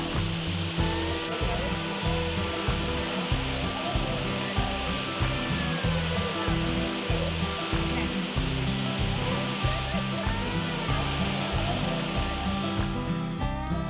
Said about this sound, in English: The waterfalls are very inviting.